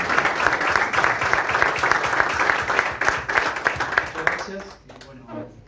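An audience applauds a newly introduced football club coach, dense steady clapping from a crowd that fades out near the end as a voice begins.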